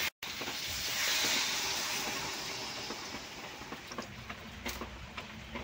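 Water poured into a pan of sizzling spiced fish and young green banana curry, a steady broad hiss that swells and then settles into crackling bubbles, close and continuous with no talk.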